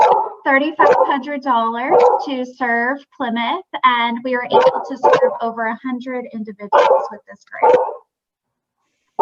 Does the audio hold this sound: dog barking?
yes